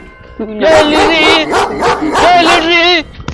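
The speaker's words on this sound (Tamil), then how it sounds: "ஐயோ நாய்." A dog barks and yips in a rapid, close run of sharp calls lasting a few seconds, mixed with people talking excitedly nearby.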